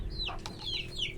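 A red rooster clucks in a few close, distinct calls against a low, steady background hum.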